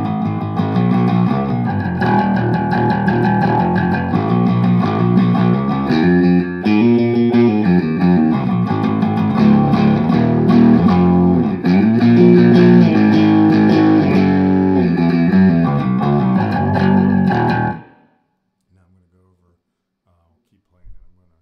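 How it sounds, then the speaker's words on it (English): Bass guitar through the high side of an Aguilar DB680 biamp into a Marshall 412 cabinet, playing a loud, continuous gritty line for about seventeen seconds before stopping abruptly into near silence. "First I'll show you here what it sounds like just with the high side of biamp coming out. So this is just right here, the Marshall by itself."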